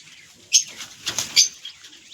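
A female pigeon is released from a home loft and flaps off in two loud, close bursts of wingbeats with quieter flutters between them.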